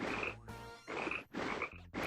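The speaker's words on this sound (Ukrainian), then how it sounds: "Та не квакай вже." Repeated frog croaks from the video game Tasty Blue, loud bursts in an uneven rhythm over a steady game soundscape with a rising electronic tone.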